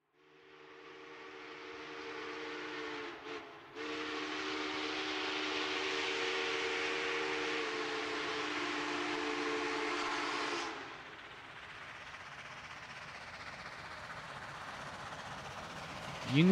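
Union Pacific 844, a steam locomotive, sounds a long, loud whistle that holds steady for several seconds, briefly dips, then ends abruptly, leaving a quieter rumble of the train running.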